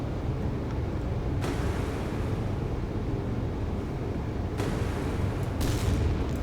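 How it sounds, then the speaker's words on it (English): Sharp booming blasts in a naval warfare video game break through a constant low rumble, a few heavy explosions spaced apart over steady engine-like noise. "Love the explosions."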